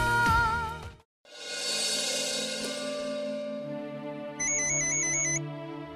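A telephone ringtone sounds late at night, a bright repeating electronic melody with pulsed high beeps, near and clear in a quiet room after a brief gap.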